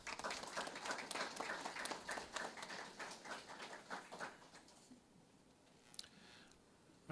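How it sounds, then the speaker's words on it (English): Audience applause at a career and technical education signing day ceremony at TCAT-Pulaski, honoring welding students; brisk clapping that thins out and fades after about five seconds, leaving a quiet room with a few faint sounds. "Give these gentlemen a round of applause."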